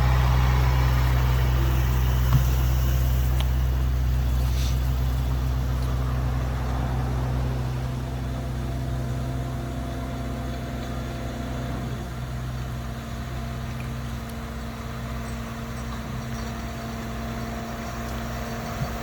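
Chip seal application equipment on a road job, spraying emulsion, gives a steady low engine drone with a deep hum that holds evenly throughout and eases slightly partway through.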